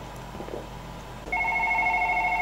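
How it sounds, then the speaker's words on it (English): Telephone ringing in the horror video game One Late Night, a sudden electronic ring with a steady pulsing tone that starts partway through after a quiet stretch, loud and alone. "Pick up the phone then."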